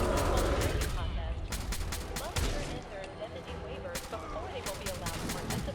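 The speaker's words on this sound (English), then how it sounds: "I keep accidentally shooting Cito because he keeps running in front of me" Sharp, rapid gunshots ring out in Fallout 4 combat, coming in quick clusters of several shots at a time over a steady background, with someone talking through much of it.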